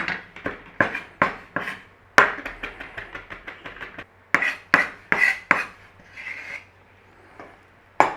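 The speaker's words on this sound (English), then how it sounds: "We're just going to mash it." Herbs pounded and mashed in a bowl for a parsnip glaze, a quick series of close, sharp thuds and scraping strikes in uneven bursts with brief pauses between.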